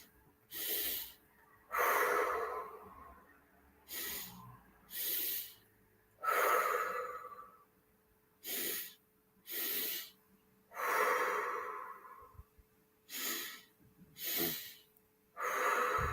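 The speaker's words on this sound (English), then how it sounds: "just push your lips gently in the out breath and make sure you're breathing right into the belly" Repeated breaths out through gently pursed lips during a calming belly-breathing exercise, about eight soft, airy exhalations alternating with quieter sniffs in, steady and unhurried, close and alone without talk.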